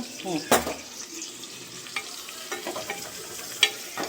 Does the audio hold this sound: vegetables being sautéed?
yes